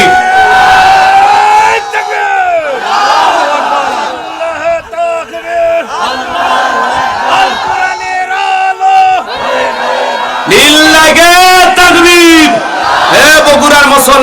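A large sermon crowd roars back in unison, chanting takbir in loud, sustained waves, with a preacher's amplified voice leading between the chants.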